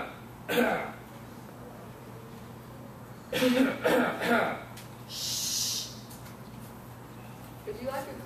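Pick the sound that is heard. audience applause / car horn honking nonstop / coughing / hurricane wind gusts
coughing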